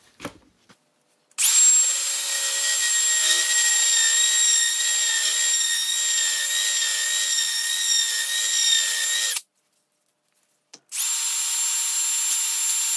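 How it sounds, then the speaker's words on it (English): The contacts and housing of a 76-year-old 6-volt starter motor are sanded with 320 grit sandpaper. A loud, steady, high motorized whine runs for about eight seconds, stops briefly, then starts again, with no talking. "This is 320 grit sandpaper, and I'm just going to sand it up a little bit, the contacts"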